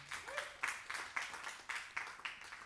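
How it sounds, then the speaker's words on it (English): Applause from an audience at a queer Pride talk event, a quiet rippling wash of clapping with repeated swells, heard from a distance. "please an applause for that"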